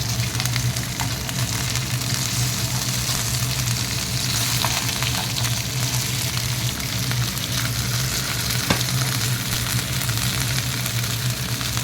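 Kingfish (surmai) fries in a pan of oil with a dense, constant sizzle and a low steady hum beneath, loud and close, with no pauses.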